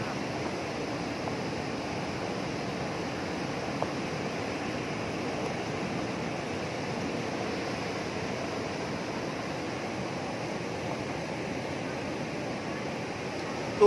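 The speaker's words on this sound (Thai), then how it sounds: "ดูครับคลื่นลมแรงคลื่นตอนนี้ลมไม่ค่อยมีนะครับเหลือแต่คลื่น" Storm-driven ocean waves break steadily on Khlong Chao beach on Ko Kood, a continuous broad surf roar with little wind, moderately loud and unbroken throughout.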